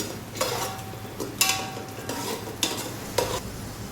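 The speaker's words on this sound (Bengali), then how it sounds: "এরপর আমরা কাজু দিয়ে দেবো, কিশমিশ দিয়ে ভালো করে নাড়ব" Cashews and raisins stirred in a frying pan for Gondhoraj Basanti pulao, a spoon scraping several times in a loose rhythm over a soft continuous sizzle, close and alone.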